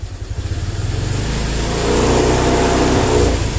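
A Honda Vario scooter with a sluggish, delayed throttle response idles with a steady putter, then revs up as the throttle is opened, the engine note rising and holding loud and close.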